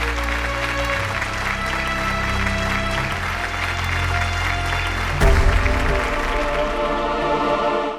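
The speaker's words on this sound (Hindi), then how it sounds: "तालियां इनके लिए।" Studio audience applause for a contestant on a Hindi television competition show, a steady dense clapping that swells after a musical sting and carries on under background music.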